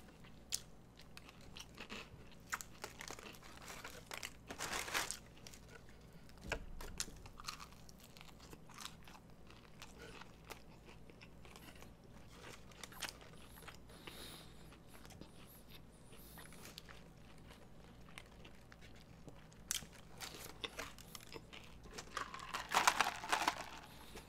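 Popeyes fried chicken is bitten and chewed close up inside a car, with crisp crunching bites and wet chewing repeating throughout at a quiet level and a louder burst of crunches near the end.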